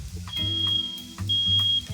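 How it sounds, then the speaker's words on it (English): A kitchen smoke alarm, set off by a smoking pan, sounds two long, loud, high-pitched beeps separated by a short gap over a steady low rumble. "It's almost done, and we'll turn off the alarm."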